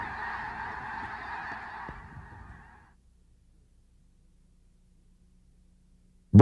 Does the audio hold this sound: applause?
no